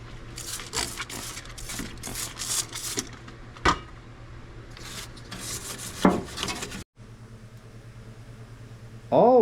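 Rhythmic scrubbing strokes with a brush and red Scotch-Brite on the wet body of a 1955 Chevy Bel Air, rasping bursts close up and repeated several times, then a short pause and fainter rubbing.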